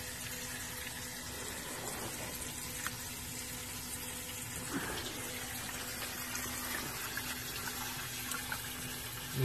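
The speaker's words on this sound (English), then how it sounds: "Pouring it right directly into the gravel." Water pours steadily into loose gravel in a crawl space with a soft, continuous trickling hiss, fairly quiet and without speech.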